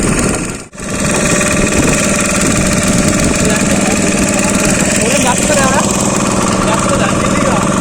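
Motor launch engine chugging steadily on a boat trip near Talsari, a loud close drone that runs throughout with a brief dip early on, while people talk over it.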